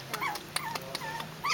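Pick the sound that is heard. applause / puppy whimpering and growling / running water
puppy whimpering and growling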